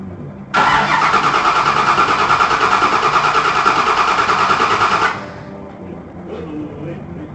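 A Ford Bronco engine running loud and close, a steady rough rumble with a raspy exhaust note that holds for several seconds before cutting back to a lower background hum.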